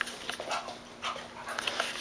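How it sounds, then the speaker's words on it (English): A bomb-sniffing dog whimpers and pants softly in a few short, thin bursts close by, set against a steady faint hum inside a house. "He's our bomb-sniffing dog."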